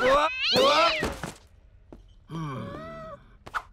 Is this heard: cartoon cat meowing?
yes